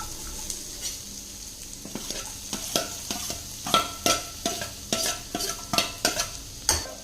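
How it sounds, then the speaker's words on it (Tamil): A large chopped onion fries in melted butter in a pan for a Tamil green gram sundal snack with vegetables. It gives a steady sizzle broken by a series of sharp, close stirring scrapes, louder and quicker toward the end, with no voices. "பட்டர் வந்து நல்லா உருகிடுச்சுங்க ஒரு பெரிய வெங்காயம் பொடியாக கட் பண்ணி வச்சுருக்கேன் சேர்த்திக்கலாம்"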